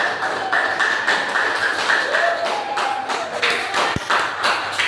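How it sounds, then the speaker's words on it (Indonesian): Students in a classroom clap for several seconds, a fairly loud patter of many hands that goes on steadily, with one sharp thump near the end. "Tepuk tangan untuk kalian."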